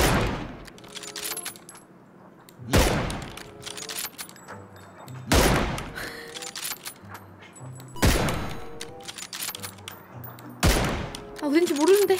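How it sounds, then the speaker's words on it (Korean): Gunfire in GTA arrives in five loud bursts at regular intervals, each a sharp crack trailing into a decaying rumble, with quieter game sounds in between. "총소리가 자꾸 저쪽 근처에서 뭐가 난 것 같단 말이야"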